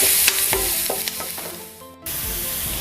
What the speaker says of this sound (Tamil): இப்போ இந்த பூண்டு ஒரு கோல்டன் கலரில் வர வரைக்கும் நம்ம நல்லா ஃப்ரை பண்ணிடலாம் இந்த ஆயிலில்